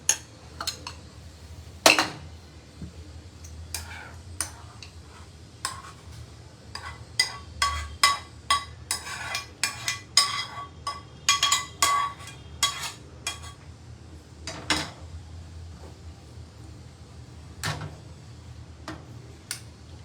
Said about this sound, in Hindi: अब मैं इसको एक बाउल में ट्रांसफर कर रही हूँ।